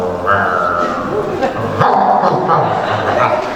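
A man imitates a dog with his voice, giving loud, close, continuous barks and whimpering yips during a church sermon.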